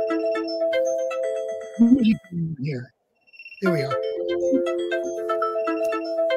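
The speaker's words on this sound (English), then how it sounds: "I think it's a phone going off." A mobile phone ringtone chimes steadily in a repeating electronic tone pattern, interrupted while someone speaks briefly, then resumes loudly and keeps ringing.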